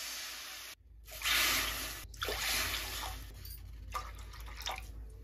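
Water is poured into a kadai to start a sago and jaggery payasam, a close, steady splashing and trickling with brief breaks and drips.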